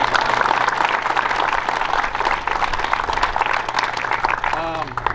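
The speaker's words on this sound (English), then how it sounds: "If we could give that entire group a huge round of applause." A crowd at an NCAA golf invitational awards ceremony gives a group a big round of sustained applause, loud and dense, with a voice briefly speaking near the end.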